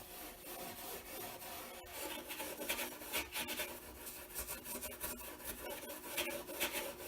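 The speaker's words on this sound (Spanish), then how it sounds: "he lijado toda la superficie, todos los espacios, incluso los más recónditos" Sandpaper rubbing over a varnished wooden chest, a continuous dry scratchy rasp with uneven strokes and small bumps, close and steady throughout with no voices.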